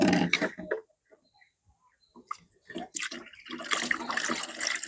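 Water poured through a funnel into the tank of a fogging sprayer mixed with insecticide, splashing and gurgling in bursts with a quiet pause in the middle, close by.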